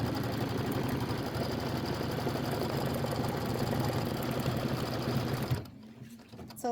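An embroidery machine stitches a tack-down line for a floor base, a steady fast mechanical hum with rapid needle chatter running continuously before stopping abruptly near the end.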